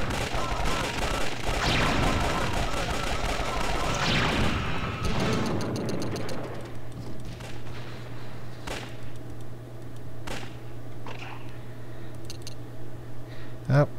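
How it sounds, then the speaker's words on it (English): Mortar rounds land in Army Men: Toys in Space battle mode on the Camp Conflict map, a heavy blast and crackling gunfire at first, followed by scattered sharp impacts and pops over a steady background hum. "someone tossed the mortar somewhere. Do not like that sound"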